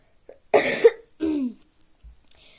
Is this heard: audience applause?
no